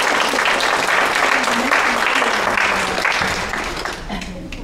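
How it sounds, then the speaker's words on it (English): Dense, steady applause from an audience at a classical piano event in San Francisco honoring a conservatory student, sustained and loud before tapering slightly near the end. "you can applaud for that"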